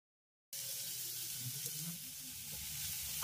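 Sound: garlic and spring onion frying in a pan

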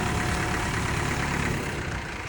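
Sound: tractor engine running while pulled out of mud

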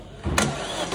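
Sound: Opel Astra 1.8 engine cranking during compression test

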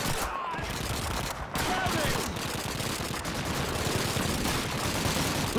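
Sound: gunfire in video game Call of Duty 2

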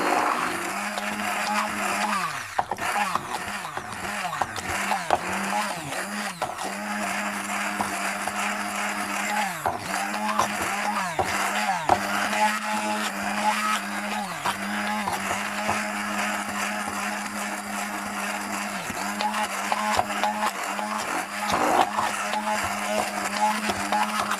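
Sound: blender mixing carrot cake batter

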